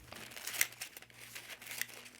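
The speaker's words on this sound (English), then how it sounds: "You can take a piece of vintage pattern and roll it up" A sheet of vintage paper sewing pattern is rolled up by hand, giving soft crinkles and a couple of sharper crackles over a couple of seconds, close and quiet.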